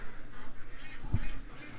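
A duck in a pen gives a single short, faint honk amid quiet background noise.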